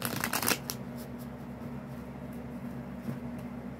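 A deck of tarot cards is shuffled close by in a brief, crisp riffling burst that settles into a soft, steady room hum.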